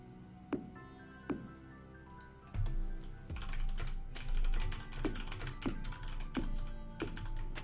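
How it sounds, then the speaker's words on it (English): Rapid clatter of keys on a computer keyboard during a Stardew Valley multiplayer session, a steady run of close, crisp clicks with a few heavier keystrokes standing out. "What you typing there?"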